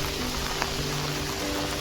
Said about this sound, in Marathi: जबरदस्त जोरदार पाऊस पडतोय.